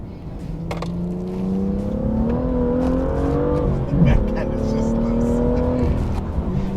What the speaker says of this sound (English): the auto blip shift definitely does it for you